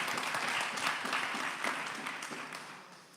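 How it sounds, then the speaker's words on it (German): An audience at a Bible-themed event gives a short round of applause, a dense, fairly soft patter of many hands that fades slightly over about three seconds. "Kannst du mal einen Applaus geben?"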